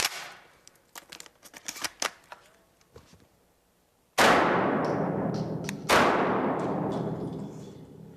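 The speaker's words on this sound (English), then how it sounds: "I shoot a Benelli M2 12-gauge semi-automatic" Two loud, close 12-gauge shotgun blasts from a Benelli M2 semi-automatic on a shooting range, each a sharp crack followed by a long reverberating decay, preceded by a few light mechanical clicks and handling taps.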